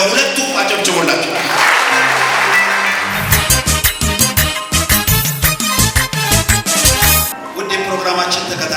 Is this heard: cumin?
no